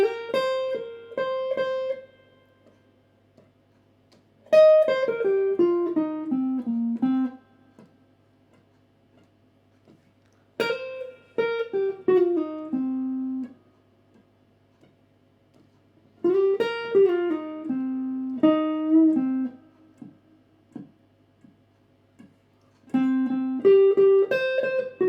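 Blues guitar solo played slowly: five separate phrases of plucked notes, each starting high and stepping down before ringing out, with quiet gaps between them, heard alone and fairly soft.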